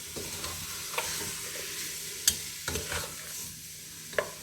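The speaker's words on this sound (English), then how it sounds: "Put it back on the stove, and I'm gonna stir it." Curry chicken being stirred in a pot on a stovetop, with soft scraping strokes and a few sharp spoon taps against the pot over a low sizzle, close and fairly quiet, no talking.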